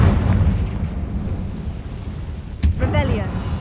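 A Confringo spell explosion in the Hogwarts Legacy video game, heard as one sharp, loud blast late in the clip that follows a stretch of low rumble, with a voice sounding around it.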